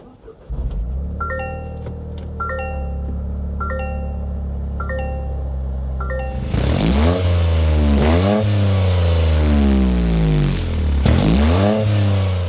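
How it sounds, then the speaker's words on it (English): A 2024 Toyota GR Corolla's engine idles with a low, steady rumble, then the exhaust barks into several sharp revs that rise and fall, loud and close. "start up this GR so you can hear that exhaust note"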